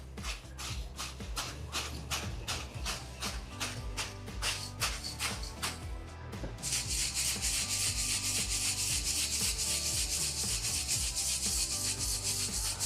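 Freshly roasted coffee beans are stirred to cool them and shed their chaff: a close, rhythmic series of dry scraping strokes roughly twice a second, then a steady continuous rattling rustle, with no speech.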